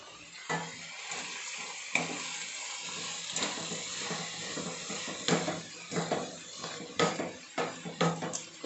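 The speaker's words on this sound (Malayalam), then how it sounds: "ഇനി നല്ലോണം ഇളക്കാം." A spoon scrapes and clatters in a pan of beans mezhukkupuratty, a Kerala stir-fry, with repeated uneven knocks and stirring scrapes over a soft sizzle, growing busier toward the end, with no talk.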